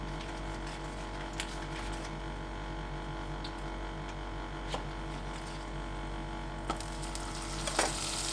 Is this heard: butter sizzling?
yes